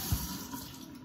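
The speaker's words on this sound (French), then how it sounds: "Attends, on va rincer ça." Water runs from a kitchen tap as something is rinsed under it, a steady close hiss with a brief splash at the start.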